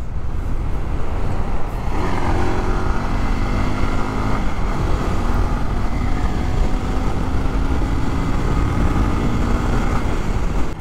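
A 2021 Honda CBR 150R Repsol sports motorcycle with ABS accelerates hard, its engine note rising in pitch through the gears in a loud, continuous, close drone.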